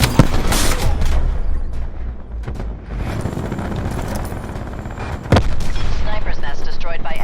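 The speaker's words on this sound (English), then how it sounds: "We're taking ground fire" Ground gunfire in Black Ops 4 rattles in dense bursts with heavy booms and explosions, loud and continuous, surging again near the end.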